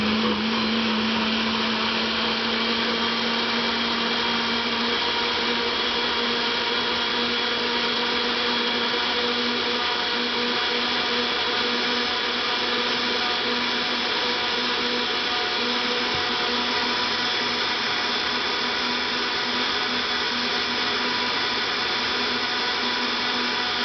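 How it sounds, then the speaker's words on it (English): A kitchen blender runs continuously at high speed while pulping paper for papermaking, a loud steady whirring motor drone with a constant pitch, close and uninterrupted throughout with no talk. "Because you won't be able to hear me, the blender being too loud."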